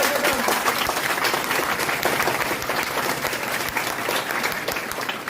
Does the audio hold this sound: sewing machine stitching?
no